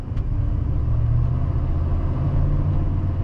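Interior drone of a 1994 Dodge RAM 1500 Laramie SLT engine at low RPM, a steady, moderate rumble heard from inside the cab with no talk.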